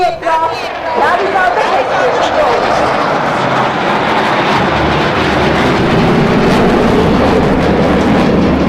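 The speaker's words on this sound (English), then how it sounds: "Light combat aircraft Tejas." A Tejas light combat aircraft passes at an Air Force Day air show in Chandigarh, its broad, loud jet roar swelling and sustaining beneath a commentator's voice and crowd noise.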